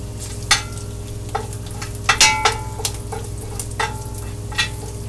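Crumbled sausage fries in a pan, its grease being gathered for country gravy: a steady close sizzle with sharp spatula scrapes and clicks at irregular intervals, and no voices.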